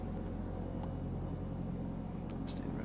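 Single-engine Piper Arrow III taxiing in Microsoft Flight Simulator, a low, steady engine rumble at idle with faint, brief higher noises on top and no clear change in pitch.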